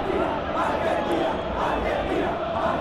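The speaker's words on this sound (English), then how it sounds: "you can feel and hear how the crowd are reacting to all of this" Crowd at a simulated international football match between Argentina and Haiti, a loud continuous roar of massed voices swelling and surging throughout.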